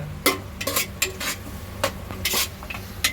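A spoon works through mutton madhooth in a pot with brisk, repeated stirring strokes and scrapes over a low simmering sizzle, close and fairly loud.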